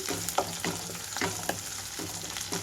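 Onions sizzle and fry in a pan for a thotakura masala curry, a soft steady crackle with rhythmic scraping stirs at roughly regular intervals, close and fairly quiet.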